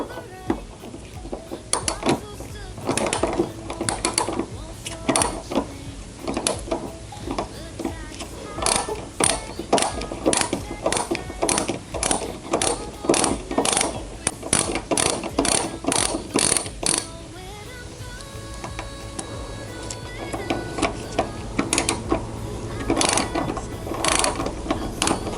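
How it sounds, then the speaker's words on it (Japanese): A ratchet removing the two side screws of a Mercedes W124 headlight clicks in rapid repeated bursts, close and sharp, with short pauses between runs of pawl ticks and a few quieter gaps throughout. "側面のネジ2箇所を外していきます。"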